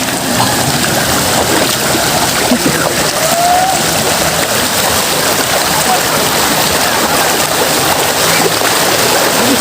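A river flows through a cave, making a loud, constant rushing wash of water that fills the whole stretch without pause.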